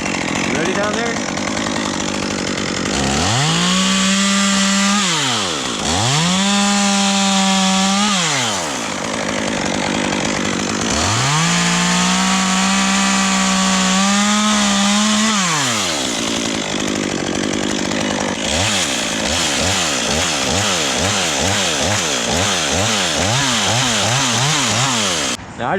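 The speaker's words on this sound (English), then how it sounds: "Now I just made a scissor wheel cut which exposes these fibers that are going to be in the hinge" A chainsaw makes a scissor wheel cut into a tree limb during tree work, its engine revving loudly and close in repeated surges of cutting, then dropping back toward idle near the end.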